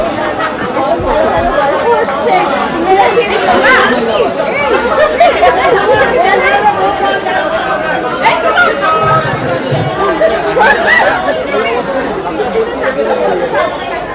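A crowd of people chats at a station during a Sundarban trip, a loud, dense babble of overlapping voices running steadily throughout with no pauses.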